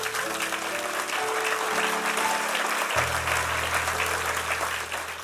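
A church congregation applauds steadily and loudly throughout, with a sustained organ or keyboard chord swelling underneath, the clapping dense and unbroken across the whole span.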